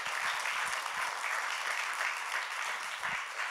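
Audience applause following an artist talk, a continuous, fairly quiet wash of clapping from a modest crowd, heard alone without speech.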